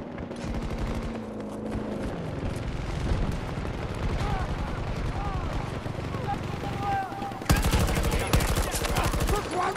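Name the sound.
gunfire in the video game Battlefield 2042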